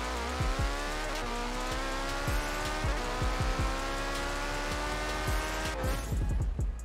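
A Porsche 959 launches in a Forza Horizon drag race, engine revving hard through rapid gear changes with rising pitch sweeps and brief shift pops, loud and continuous with no talking.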